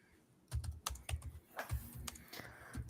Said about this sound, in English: I'm typing to you now.